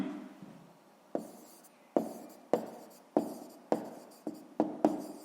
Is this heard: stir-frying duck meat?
no